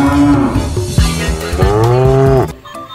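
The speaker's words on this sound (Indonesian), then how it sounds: "Wadidaw, ini ada sapi." A cow moos loudly and close by in several drawn-out, wavering calls that overlap one another and then cut off abruptly near the end.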